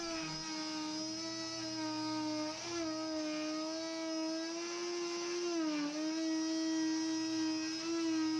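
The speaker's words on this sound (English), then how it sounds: "now I'm going to cut the other dado" A table saw cutting a dado in wood gives a loud, continuous whining motor tone that dips briefly twice as the blade bites into the workpiece, heard up close with no talking.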